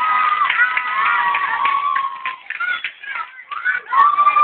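Crowd at a municipal school backpack and book handout in Acopiara cheering and shouting for the mayor, with a bright sustained whistle-like tone and excited voices throughout, loud and close, dipping briefly before rising again.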